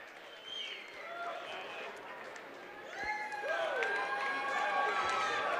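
A sold-out crowd at a Chosen Few Fighting Championship welterweight fight event roars and cheers steadily, swelling louder partway through, with whistles and shouts rising above the broad crowd noise.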